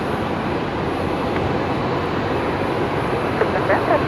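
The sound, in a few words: Embraer 190 airliner arriving at Brisbane Airport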